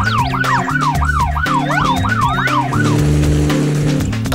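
A police car siren wails, sweeping up and down repeatedly over a steady engine rumble, then shifts to a different pattern near the end; loud and close.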